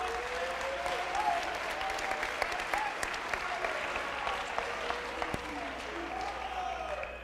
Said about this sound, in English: Round of applause for your representatives